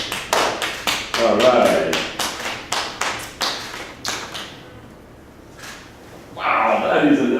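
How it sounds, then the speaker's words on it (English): Wedding guests clap in a brisk run of sharp, close claps for several seconds, then the clapping fades and a voice speaks briefly. "Big applause for the little girls."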